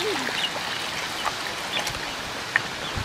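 Water pours onto yam slices in a pan outdoors in a village, a steady hissing trickle under faint bird calls and rural background noise.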